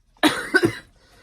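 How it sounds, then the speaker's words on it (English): A single sharp cough with a quick second burst, close and fairly loud, from someone with a lingering COVID cough, then a near-silent tail. "still got a lingering COVID cough"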